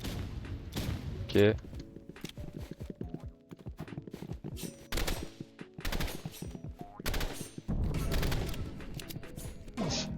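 Rapid bursts of rifle fire crackle repeatedly in the online shooter game Roblox Rivals, sharp clustered shots scattered through the clip amid other game noise, while a player talks over them.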